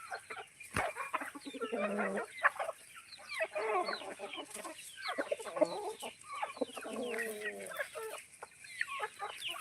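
Free-range country chickens on a village poultry farm cluck and chatter on and off in the morning, several birds close by, with busy overlapping calls rising and falling and short gaps between bursts.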